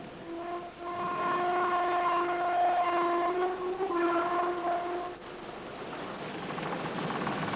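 Ore wagons hauled up a slope toward a tippler at a steelworks, giving a steady, loud mechanical hum with sustained tonal whine, like rail wheels and haulage gear, continuous throughout with no talk.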